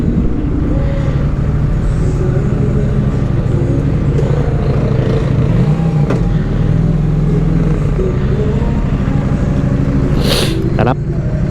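A Honda Click 125 scooter being ridden gives a steady, close engine drone with constant road and wind rumble throughout, and a voice is heard now and then over the motor.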